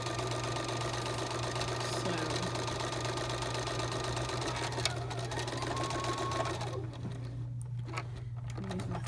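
A Bernina sewing machine fitted with a bulky overlock foot stitches piping onto a fabric edge, a loud, continuous close-up whir with rapid steady needle chatter that slows and stops near the end.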